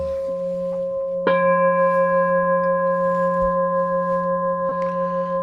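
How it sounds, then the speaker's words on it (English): A temple bell is struck once with a sharp attack and rings on in a long, steady hum, then a second, softer strike lands near the end while the tone keeps sustaining in a quiet room. "The sound of the temple bell."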